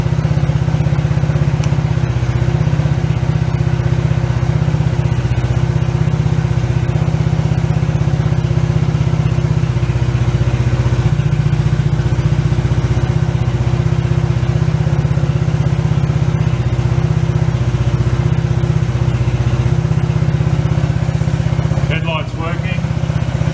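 A Suzuki Quad Runner ATV engine runs at a steady, loud idle throughout, a constant low drone with a brief rattle near the end.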